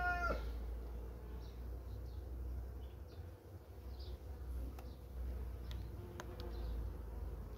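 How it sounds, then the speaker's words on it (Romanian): Honeybees buzz faintly and steadily around a hive, with a few brief higher-pitched buzzes passing close over a low background hum. "vine albine pe deasupra, e riscant tare acum"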